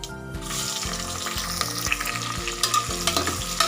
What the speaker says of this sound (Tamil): ஸோ வெங்காயம் போட்டதும் இதை நல்லா வதக்கி விட்டுருங்க